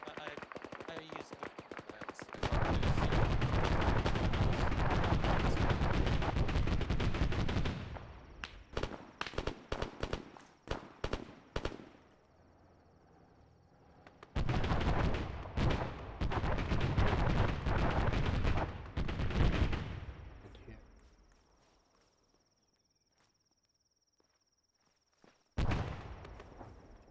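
Mortar and gunfire in the Antistasi video game erupt in two long, dense, loud barrages with scattered single shots between them and a final short burst.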